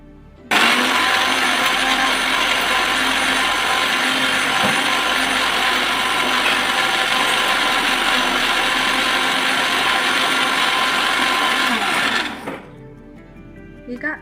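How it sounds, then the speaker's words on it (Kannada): A mixer grinder jar whirs loud and steady for about twelve seconds, grinding garlic and spices with a constant motor drone and rattle, then winds down and stops. "ಈಗ ನಾನು ಈ ಎಲ್ಲ ಪದಾರ್ಥಗಳನ್ನು ನಾನು ಮಿಕ್ಸಿ ಜಾರ್ಗೆ ಹಾಕ್ಕೊಂಡು ಇದನ್ನು"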